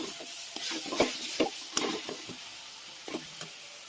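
Spices fry in oil for chhola ghugni while a spoon scrapes and stirs the pan in uneven strokes, over a soft sizzle heard up close.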